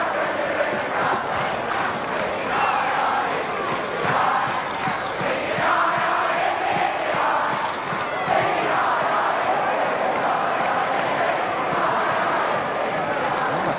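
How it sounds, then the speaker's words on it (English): Football crowd behind the goal at a 1966/67 West Ham United versus Sheffield Wednesday First Division match, a loud sustained roar of cheering and chanting that swells and holds throughout, dense and continuous. "the crowd behind the goal to our left really happy with the way the game's gone"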